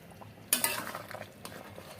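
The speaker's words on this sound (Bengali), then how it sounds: "আমি একটু নাড়িয়ে চাড়িয়ে রান্নাটাকে নামিয়ে ফেলবো" A sharp utensil scrape opens the stirring of a nearly finished curry in a cooking pan, followed by softer intermittent scrapes and light taps against the metal, close and quiet.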